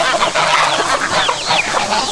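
Chickens cluck and squawk loudly and close by in a farmyard while feed is being spilled, a busy continuous chatter of fowl with no talking.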